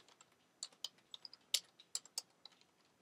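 Quiet, close typing on a computer keyboard, with scattered single keystrokes in an irregular rhythm and no talking.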